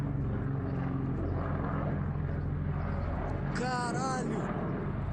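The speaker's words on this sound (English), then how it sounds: "o avião caindo" An ATR 72-500 turboprop airliner spiraling down out of the sky, heard as a steady, loud engine drone and rushing roar throughout, with people's voices shouting over it near the end.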